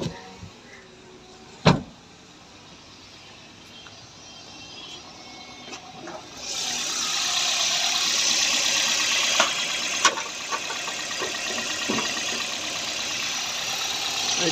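A Toyota Corolla GLI engine idles at a steady, even speed after repair of an RPM up-and-down fault. The hum is constant and close, with a sharp click near the start and a louder, hissy wash setting in midway.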